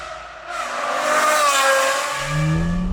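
A manual Aston Martin V12 revs hard through its exhaust, the engine note climbing into a loud, sustained snarl and then easing off, close and clear with no talking.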